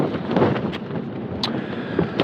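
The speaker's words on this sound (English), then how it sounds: "The gusts at the moment are probably hitting 50, 60 miles an hour, maybe more" Steady roaring wind of 50 to 60 mph gusts buffets the microphone inside a thin-fabric tent at night, with a few sharper gusts cutting through the broadband rush.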